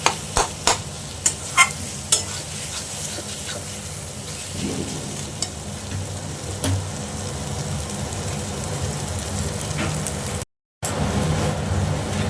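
Chicken masala with poppy seed, cashew and yogurt paste sautés in a pan, giving a continuous loud sizzle with repeated scraping stirs and a few sharp clinks at the start.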